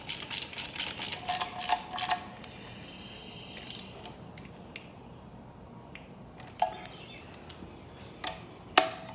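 A hand ratchet tightens a 15 mm nut in a garage engine swap, rattling off a quick run of loud clicks at first, then a few scattered single clicks in quieter surroundings.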